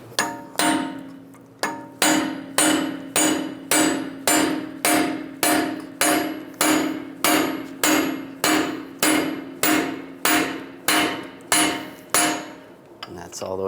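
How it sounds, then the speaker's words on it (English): A hammer strikes a punch driving the center axle through a 1998-2010 Volkswagen Beetle strut knuckle, about twenty loud, sharp metallic blows in a steady rhythm, close by and with no talking. "I'm going to punch the center axle straight through."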